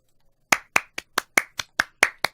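Hands clapping nine times in a fairly even rhythm, sharp and close, after a moment of near silence.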